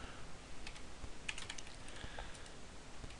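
Fingers typing on a computer keyboard, a quick irregular patter of close, soft key clicks with a few sharper taps, steady throughout and with no voice over it.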